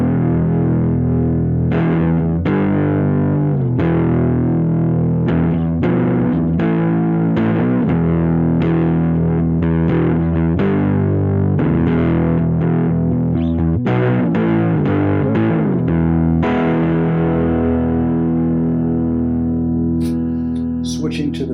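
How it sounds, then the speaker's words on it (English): Electric guitar played through a JHS PG14 distortion pedal on a pedalboard: sustained, heavily distorted chords and notes ring out continuously and loud, with repeated strummed attacks and a brief higher flourish near the end. "my new JHS PG14 distortion pedal"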